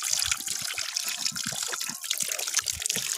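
Water trickles steadily from a spring that serves as the drinking-water source for workers in a forest garden, a continuous close splashing flow with faint low knocks and no voices.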